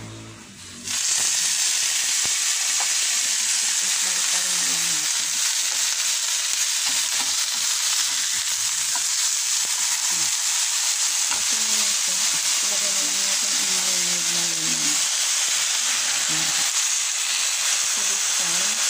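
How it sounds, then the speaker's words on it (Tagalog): Salmon fillet laid into hot extra virgin olive oil with browned garlic, erupting into a loud, sustained hissing sizzle that holds steady for the whole stretch, with faint voices talking underneath. "So, ilagay na natin ang salmon guys."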